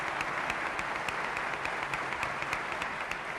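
Deputies and senators in the Spanish parliament chamber applaud at the 1978 Constitution's sanction ceremony, a steady, even roar of clapping from a large hall filling the whole stretch, slightly distant and reverberant.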